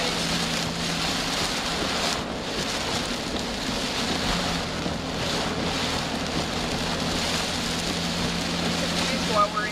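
Steady rain and wind buffet a vehicle while chasing severe storms in western Oklahoma, a dense continuous hiss with a low rumbling drone running throughout at even loudness.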